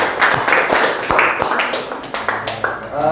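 A classroom group claps for group 1, irregular hand claps rising and fading over the whole stretch, mixed with a little chatter in the room.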